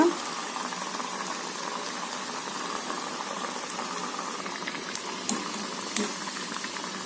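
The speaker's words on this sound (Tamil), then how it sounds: "சிம்லேயே வச்சு வேக வைக்கலாங்க" Vada fry gently in oil over a low flame, giving a soft, even bubbling hiss throughout with a couple of faint ticks.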